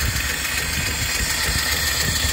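A live steam engine with boiler runs at about 200 RPM, a steady close mechanical chugging with rapid rhythmic low thumps and a broad hissing layer, loud and unbroken.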